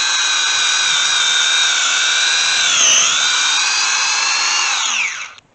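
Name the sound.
power drill boring tap hole into maple tree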